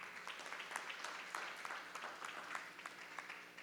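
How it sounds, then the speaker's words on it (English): Audience applause for Dr. Robinson at a 2014 accreditation update, a steady wash of many hands clapping that holds evenly throughout at moderate, somewhat distant volume. "you need to get ready to applaud out there in Hampered Land"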